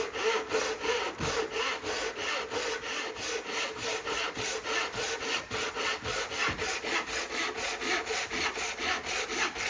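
A new hand saw cuts wood for a LEGO tray, with a steady back-and-forth rasping rhythm of close, loud strokes running continuously without speech.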